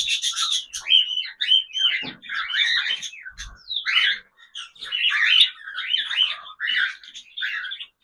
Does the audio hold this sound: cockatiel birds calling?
yes